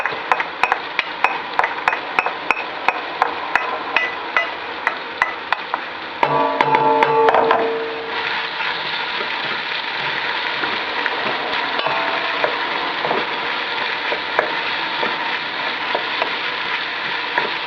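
Garlic and ginger frying in a hot pan for a curry, with scraping stirring strokes knocking against the pan at a steady rhythm early on, then a louder sizzle burst and a continuous close frying hiss.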